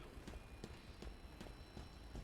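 Footsteps in a competitive first-person shooter, heard as faint, muffled, evenly spaced thuds about three per second, coming from a level below.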